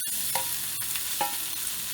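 Marinated, already cooked cauliflower frying in a little oil in a frying pan on medium-high heat: a steady close sizzle with a few brief stirring scrapes, no talking.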